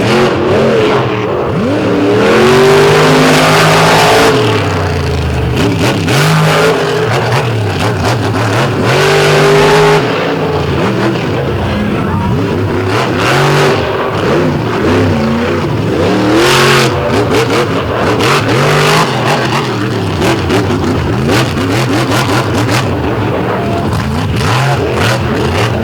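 A monster truck at an arena competition roars through its run, the engine revving hard and continuously at full volume with rising and falling surges and some tire noise throughout.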